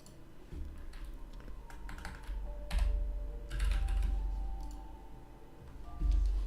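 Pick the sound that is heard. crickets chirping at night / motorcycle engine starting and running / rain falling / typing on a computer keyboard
typing on a computer keyboard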